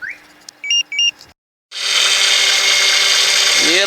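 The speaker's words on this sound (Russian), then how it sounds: "Сейчас заведем машину и посмотрим." A car left standing in minus 20 degree frost is started: a few short electronic beeps, a pause, then the engine catches and settles into a loud, steady whine-laden idle, with a rising tone near the end.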